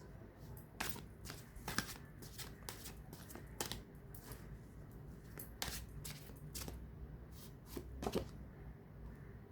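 Angel cards being shuffled by hand, a faint, quick, irregular run of soft papery flicks and taps, heard alone and close.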